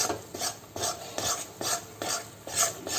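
Mohanthal halwa is stirred with milk in a kadhai over a medium flame, producing rhythmic scraping swishes that repeat about every half second, close and fairly loud, with a faint sizzle underneath and no speech.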